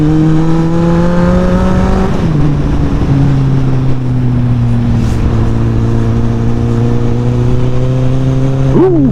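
A motorcycle engine drones loudly and close up during a ride on roads in south-east France. A steady humming pitch dips with a gear change early on, then holds even before a quick rev blip at the end.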